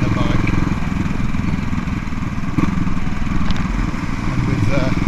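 CCM Bobber motorcycle cruising on a road, a loud continuous engine drone with steady mid-pitched rumble and wind noise, close and unbroken throughout.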